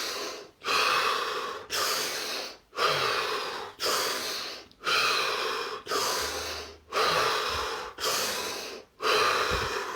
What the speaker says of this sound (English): 7 deep breaths